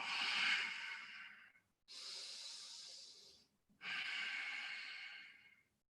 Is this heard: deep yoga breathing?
yes